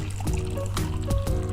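Hot water pours into herbal decoction tea in a cup, a steady trickling splash over a low hum, with a couple of brief knocks.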